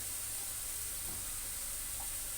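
Onion, garlic, ginger, cumin, chilli and spices fry together in a pan for a soybean and potato curry, giving a steady soft sizzle and hiss with faint stirring and no talk.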